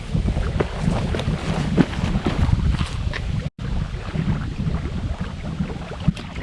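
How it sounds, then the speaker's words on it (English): Strong wind buffeting the microphone at a fall canoe campsite in Massasauga, a loud steady rumbling gust noise with a brief dropout midway, no talking. "I got a little more wind than I was hoping for this morning"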